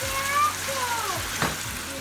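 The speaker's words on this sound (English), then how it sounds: "Just a little bit of water to saute the veggie." Chopped vegetables sauté in a pot with a splash of water for a vegetable quinoa dish, giving a steady close sizzle with a brief hissing flare.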